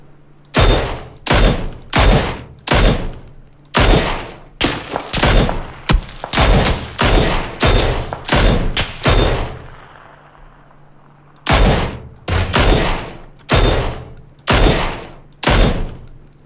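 Loud, close gunfire in PUBG comes in rapid, evenly spaced single shots, a dense burst of about a dozen, a short pause with a fading echo, then another run of sharp cracks, with no talking.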